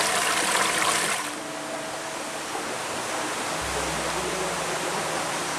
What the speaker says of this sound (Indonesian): Inilah yang ditawarkan dari keindahan air terjun Jurang Limas yang ada di kawasan hutan lindung lereng Wilis.